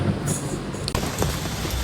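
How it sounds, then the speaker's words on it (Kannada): Steady rain hisses close by, with a couple of sharper drips or taps standing out during a short stretch. "ಮಳೆ ಬರತೈತಿ"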